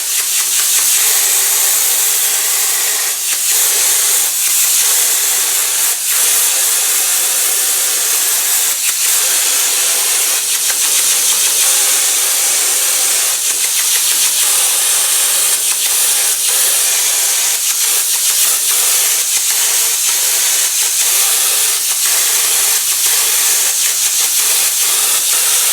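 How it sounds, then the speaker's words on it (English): Gravity-fed spray gun spraying thick glue onto the back of a foam piece during a vinyl cover repair, a loud continuous hiss with brief pulsing breaks as the trigger eases and resumes. "I'm going to spray the back"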